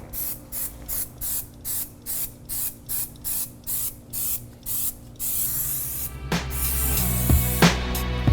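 Chemical Guys foaming tire shine is sprayed onto Honda Civic tires in about a dozen quick, evenly spaced trigger bursts, each a sharp close hiss, followed by a steadier spray with light clatter at the end.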